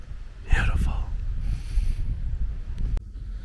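Wind buffets the microphone at a Blue Ridge Parkway overlook in fall, a close, rough, steady rumble with gusty swells throughout and a faint voice briefly in the mix.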